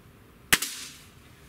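A single sharp crack from a Gamo Swarm Magnum .22 caliber break-barrel air rifle with a 50-pound cocking effort, a loud close report followed by a brief second knock and a short fading tail.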